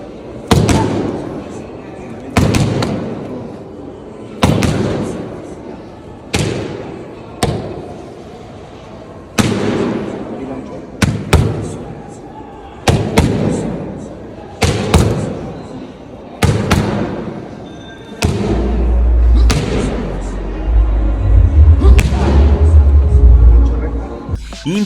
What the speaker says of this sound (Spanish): Impresionante los sonidos que hacen los puñetazos de Eduardo Sugar Núñez